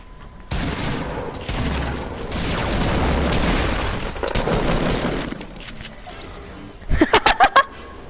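Gunfire in the video game Fortnite: a loud, dense burst of shots runs for several seconds, ending in a quick run of four or five sharp, evenly spaced shots close by.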